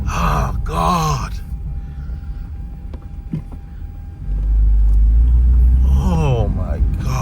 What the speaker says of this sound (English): Ooh, listen to that motor.